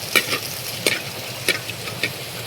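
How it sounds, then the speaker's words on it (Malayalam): Ginger and garlic fry in coconut oil with a soft steady sizzle, punctuated by four or five quick scraping stirs of a spoon in the pan, close and alone. "കുറച്ച് വെളിച്ചെണ്ണ ഒഴിച്ച് കൊടുക്കാം ആദ്യം ഇഞ്ചിയും വെളുത്തുള്ളിയാണ് ഇഞ്ചി വെളുത്തുള്ളി"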